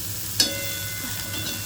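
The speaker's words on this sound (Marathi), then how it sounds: "बघू शकता इथे तव्यावरतीच मी थोडीशी भेंडी बनवून टाकली" Okra (bhindi) fries on a flat tawa with a soft, steady sizzle and a single short clink of a utensil early on, heard close and with no one speaking.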